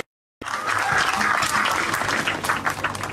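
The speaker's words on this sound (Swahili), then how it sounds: "Twapigie makofi mazuri" Sudden burst of applause after a brief silence, a crowd at a graduation ceremony in Machakos, Kenya clapping steadily and loudly for a few seconds.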